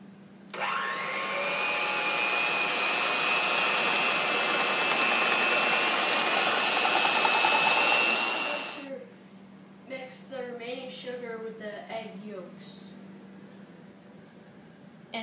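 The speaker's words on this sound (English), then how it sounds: "We beat the egg whites and sugar until they are stiff and glossy." An electric mixer whips egg whites and sugar until stiff, a loud, steady whirring hum for about eight seconds that then stops, followed by someone speaking.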